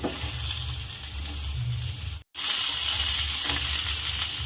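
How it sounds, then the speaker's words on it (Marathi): Okra roasting in a little oil in a kadai over a high gas flame, a steady loud sizzle that cuts out briefly partway through and then resumes. "फास्ट गॅसवरच भेंडी भाजून घ्यायची आहे"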